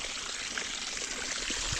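Water from a coconut grove drains steadily through a dug channel in a planted field, a soft continuous trickle and gurgle heard close by with no voices.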